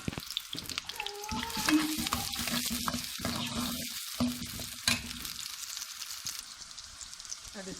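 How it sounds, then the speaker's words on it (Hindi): Onions frying in hot oil give a steady, close sizzle with stirring and scraping, and some faint watery sounds partway through, with no talking. "अब इसमें प्याज फ्राई होने के लिए शामिल करते हैं।"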